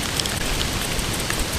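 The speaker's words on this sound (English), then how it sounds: "It's now hissing down with rain." Heavy rain hisses down steadily over sand dunes on the coast, a dense, continuous wash of noise with no voices.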